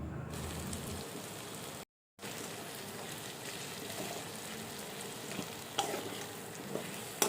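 Potatoes fry in a pan with a steady, close crackling sizzle that runs throughout, broken by a short silent gap, with occasional light clinks and no talking.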